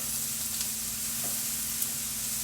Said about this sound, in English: Let these mushrooms cook.